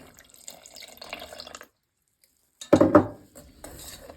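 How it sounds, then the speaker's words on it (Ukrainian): Milk poured into a cake cream mixture of eggs in a pot for a bird's milk cake, a brief close liquid splash and glug after quiet, with light kitchen handling sounds around it. "Додаємо сюди 250 мл молочка."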